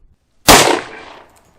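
A single sharp gunshot from a Colt Delta Elite 10mm pistol, loud and close, with a short ringing decay afterward and no voices.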